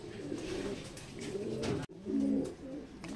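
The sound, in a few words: racing pigeons cooing at loft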